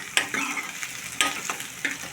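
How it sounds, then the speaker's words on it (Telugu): Onions frying until golden, with a close crackling sizzle and three distinct scraping stirs of a spatula against the pan in a short burst. "ఉల్లిపాయ బాగా గోల్డెన్ కలర్ వచ్చేదాకా వేపాలి."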